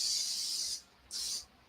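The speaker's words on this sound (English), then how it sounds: "I'm going to just spray this here" Aerosol cooking spray hisses onto a cast iron pan in two bursts, a longer spray and then a shorter one after a brief pause. The sound is close, bright and breathy.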